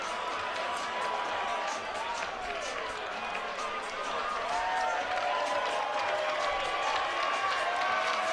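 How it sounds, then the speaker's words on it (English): Spectators at a club rugby match clap and cheer across the ground during a conversion attempt, a steady wash of crowd noise with scattered whistles and calls, somewhat distant, under a commentator's voice. "And an applause there from the crowd."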